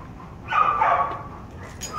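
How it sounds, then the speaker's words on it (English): Dogs with dominant personalities interacting, giving a short whining, yipping vocalisation over a steady background noise, moderately close and brief. "dogs with dominant personalities interacting"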